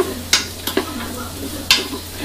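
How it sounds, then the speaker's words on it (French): Onion and garlic fry gently in olive oil in a Cookeo multicooker bowl, a soft steady sizzle broken by three sharp spoon scrapes and clacks against the pot. "dans la cuve de mon Cookéo, j'ai mis un petit peu d'huile d'olive, j'ai mis mon oignon et mon ail et je vais laisser légèrement dorer"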